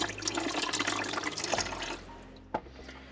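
A seat-cleaning tool dunked into water in a camper van makes a steady rushing, sloshing wash of liquid that eases off, followed by a single sharp splash near the end.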